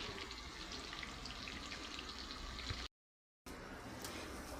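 Water hisses and bubbles in a pan of frying cutlets and onion, a steady close sizzle interrupted by a brief gap of silence before resuming.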